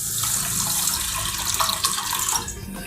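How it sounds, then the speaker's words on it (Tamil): Water runs and splashes steadily into a pot as rice and lentils are rinsed by hand, a continuous close sloshing and trickling with no talk. "நல்லா ஒரு 2-3 டைம்ஸ் தண்ணி விட்டு நல்லா வாஷ் பண்ணிவிடுங்க."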